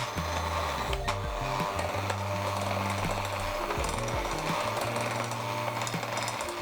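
An electric hand mixer beats strawberry cake batter with flour on low speed, a steady whirring motor with shifting pitch as the beaters move through the mix, close and continuous.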